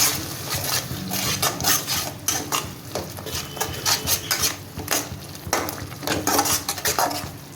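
A utensil scrapes and stirs ground chilli, turmeric, cumin, garam masala and salt in a hot pan for potol dorma, with continuous clattering scrapes and a faint sizzle, close up and without talk.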